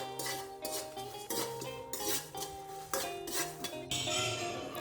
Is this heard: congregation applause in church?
no